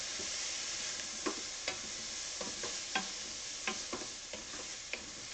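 Diced ham crisping in olive oil in a pan sizzles steadily at close range, with sharp intermittent pops and scraping stirs scattered throughout, and no talking.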